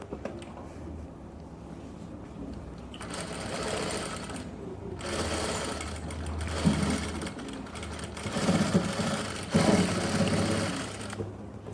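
A sewing machine stitches lace onto fabric, whirring in several bursts of a few seconds each with short pauses between them. The motor sounds close and steady, and no one talks.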